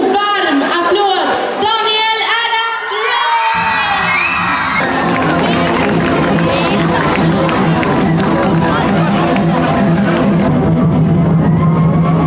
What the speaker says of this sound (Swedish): En stor och varm applåd.